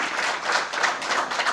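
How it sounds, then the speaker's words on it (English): A brief burst of audience applause for Dr. Boi at a medical lecture on ECMO and mechanical ventilation: dense, steady clapping from a crowd, fairly close, with no talking over it. "So I must give you a big clap of hands to Dr."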